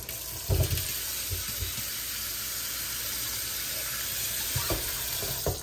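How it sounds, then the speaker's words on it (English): A Delta Windemere kitchen faucet running strongly into a sink gives a steady hissing water flow throughout, close and fairly loud, with a few handle clunks near the start and end. "the water comes out super strong"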